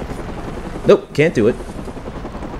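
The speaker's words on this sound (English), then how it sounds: "I'm going to ride this helicopter for you." A helicopter in the Batman Arkham Origins video game drones with a steady low rotor rumble throughout, while someone speaks briefly over it.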